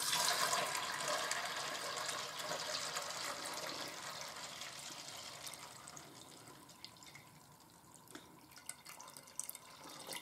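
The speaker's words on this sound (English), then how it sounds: "You need to pour 3 times as much water as the soybeans." Filtered water pours over soybeans in a container, a continuous splashing and trickling that starts louder and gradually softens as the vessel fills, with no voices.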